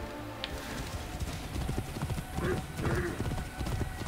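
A horse in the video game Assassin's Creed Origins gallops with rapid, rhythmic hoofbeats that grow louder, with brief neighing sounds over the running.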